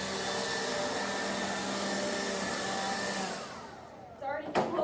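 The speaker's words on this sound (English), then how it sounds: "I'm gonna go ahead and blow the barn out" A loud, steady blower roars while clearing out a horse barn, running alone at high volume for a few seconds before cutting off, followed by brief clattering knocks.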